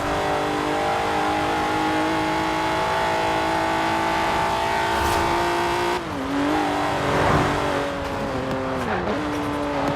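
A twin-turbocharged sports car engine in Forza Horizon 4 revs hard and steadily, then drops and climbs through several quick gear changes, loud and close with faint tyre noise.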